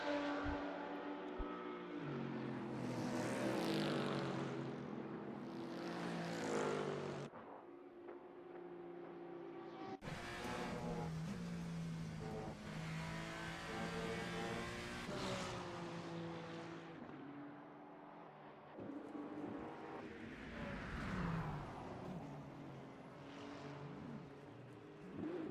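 A race car engine in Assetto Corsa on the Spa circuit, loud and near, rising and falling with revving and gear changes across most of the stretch, with brief dips between passes.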